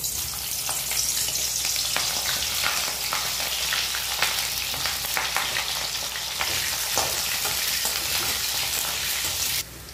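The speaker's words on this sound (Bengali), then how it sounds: "প্রথমে ফুলকপিগুলো ভেজে নেব" Cauliflower florets frying in white oil in a wok, a loud, dense, continuous sizzle with crackling spits throughout, cutting off abruptly at the very end.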